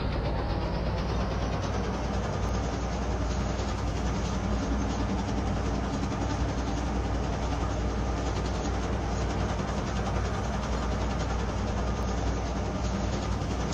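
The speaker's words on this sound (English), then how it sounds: "This is a red line train to Roosevelt." A CTA Red Line train runs in a Roblox rail simulator, a steady, continuous rumble of wheels and motor holding at an even level throughout with no talk.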